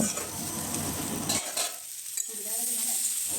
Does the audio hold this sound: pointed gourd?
yes